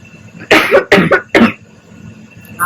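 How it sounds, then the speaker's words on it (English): A person coughs four times in quick, harsh bursts, close and loud, followed by quieter room noise. "So I'm gonna cough."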